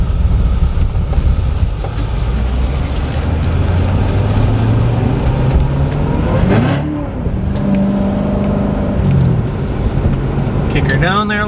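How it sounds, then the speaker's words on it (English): A 2014 Chevrolet Corvette Z06 with open exhaust dumps growls loudly as it is pushed hard with wheelspin, the engine note climbing steadily, dipping and rising again, with talk over it. "of course the exhaust dumps open up. You get that little ferocious growl to her."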